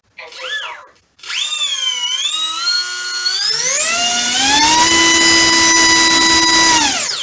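A small 4000 kV electric motor from a Radiolink Jet, mounted in a Kavan Uhu/Falke power pod, gives a short chirp and then spins up in steps to a loud, steady, high-pitched whine close by.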